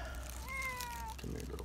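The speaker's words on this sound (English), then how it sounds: "We heard it meowing" A cat gives a single clear meow, rising and then sliding down in pitch, heard close against a steady background hiss.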